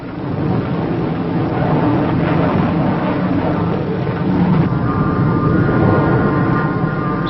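An RF-101 reconnaissance jet roars steadily and loudly from start to finish, a dense, broad, muffled rumble with no breaks, heard through a vintage film soundtrack.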